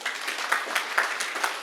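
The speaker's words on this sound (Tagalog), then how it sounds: "palakpak." Congregation clapping in a church, many hands tapping in a brisk, fairly even rhythm of sharp claps at moderate distance, somewhat soft and continuous.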